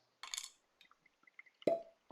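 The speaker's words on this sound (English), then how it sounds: "I'm gonna go ahead and put mine on the rocks." Johnnie Walker whiskey poured over ice in a glass: a short splashy burst first, then scattered clinks and taps, and a louder settling crackle of liquid against ice near the end, all close and fairly quiet.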